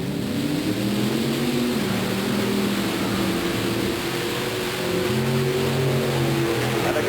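Two big monster trucks, the Mopar Magic and the Auto Value King Crunch, roar side by side in a drag race at a 1990 Bowling Green, Ohio truck show: a continuous loud engine drone with rising and falling pitch and no talk.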